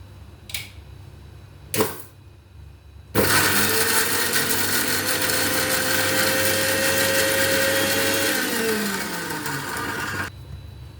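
An electric blender grinds gooseberries with ginger, curry leaves and salt, starting abruptly after two short clicks and running at a loud, steady whine for about seven seconds before it stops.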